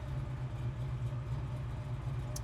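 A 1969 Chevrolet Camaro with a big block V8 idles steadily, a deep, even low rumble that holds close and loud throughout with no talking.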